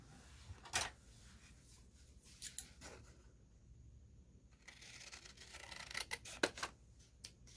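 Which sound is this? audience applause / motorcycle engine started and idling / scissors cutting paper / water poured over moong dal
scissors cutting paper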